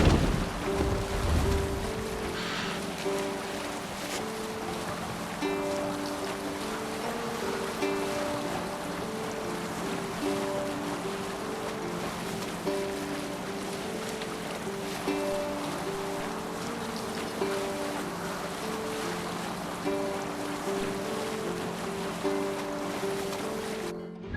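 Waves wash steadily against a sailing ship at sea in Assassin's Creed Valhalla, with wind in the background and a sustained musical drone, continuous and even throughout.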